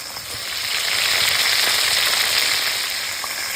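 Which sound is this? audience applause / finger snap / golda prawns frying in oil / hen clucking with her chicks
golda prawns frying in oil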